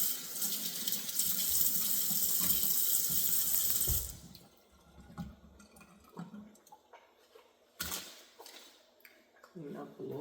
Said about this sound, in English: So I'm gonna wash my hands again here.